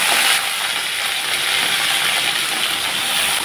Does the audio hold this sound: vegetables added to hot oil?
yes